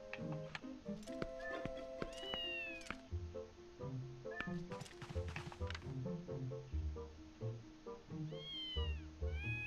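Meows from a cat in Zelda: Twilight Princess HD, several rising and falling calls over game music with light footstep-like clicks.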